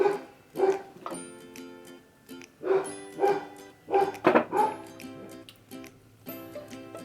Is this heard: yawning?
no